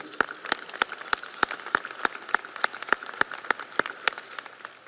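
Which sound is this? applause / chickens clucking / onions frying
applause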